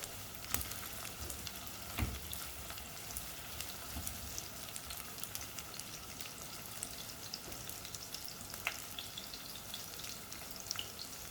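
Onion sizzling and frying in a pan while making a Malaysian-style fish pindang soup, a steady crackling hiss with occasional stirring scrapes and clinks throughout, close and moderately loud with no talk.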